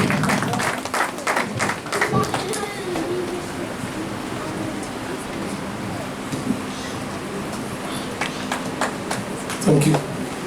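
Congregation in church claps together, a burst of rhythmic clapping at first that loosens into scattered applause, with voices and crowd murmur underneath.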